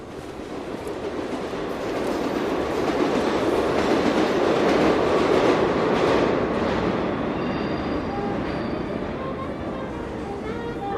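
Subway train running on rails, a steady loud rumble with rolling wheel noise that swells mid-ride and holds throughout, with a faint voice beneath.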